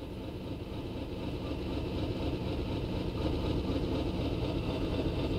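A 7F steam locomotive runs in the Train Simulator game, a continuous engine rumble that grows slightly louder and holds steady throughout, with no talking.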